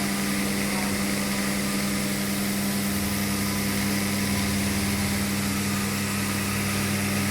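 A screw motor runs on an automatic assembly machine for coffee machine micro water pumps, a steady, loud mechanical hum with a constant tonal drone that continues unbroken throughout.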